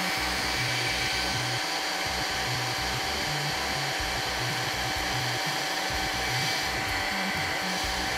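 A steady, loud whirring hot air soldering station (Lukey V6) blower pushing hot air, with a constant motor whine and rushing airflow, running unbroken with no speech.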